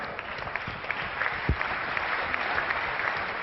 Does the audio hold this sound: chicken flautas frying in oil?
no